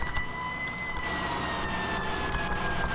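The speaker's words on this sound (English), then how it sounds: "Sirens. Oh, shoot. Yeah, emergency!" Fire truck siren in Farming Simulator 17, a steady, slowly falling electronic wail that holds for the whole stretch over a dense engine rumble, loud and close, with no one talking.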